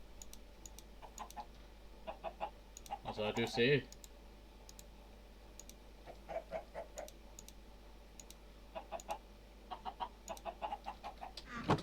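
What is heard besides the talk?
chickens clucking in the video game Minecraft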